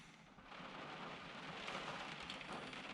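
Heavy rain pounds steadily outside a Peugeot Boxer camper van during Storm Bella's strong gales, a dense continuous hiss that swells slightly after the first half-second, with no voices.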